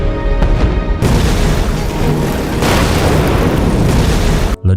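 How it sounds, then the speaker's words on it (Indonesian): Heavy explosions from aerial bombing boom one after another in a loud, continuous roar of blasts and rumble over a bunker. The sound cuts off abruptly at the end. "Ledakan dahsyat ini mengguncang bunker tempat Fomai dan meruntuhkan semua interiornya."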